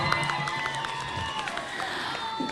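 An audience at a children's talent contest in Bangkalan claps and cheers, a dense, steady patter of many hands with scattered voices, moderately loud.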